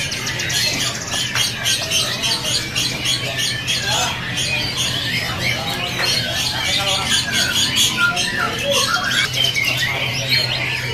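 Magpie-robin (murai) songbird calling at a bird shop, bright chirps and squawks among other caged birds, busy and fairly loud with people talking nearby.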